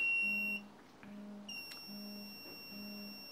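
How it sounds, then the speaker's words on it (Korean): A search bell buzzer on a simulation board beeps in a steady repeating pattern, four evenly spaced tones each lasting about half a second, clear and close with no talk. "이렇게 삐 소리가 이게 아마 한 10시간에서 12시간 정도 지속되어 찾기 쉽도록 유도되기 위한 제품입니다"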